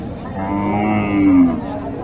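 A cow at a livestock market gives a loud, drawn-out moo lasting about two seconds, close by, with faint crowd chatter behind.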